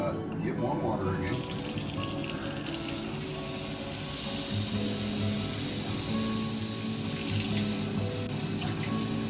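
Warm water gushes steadily from a kitchen tap into a sink while bread dough is being made, a loud continuous splashing rush that goes on without a break.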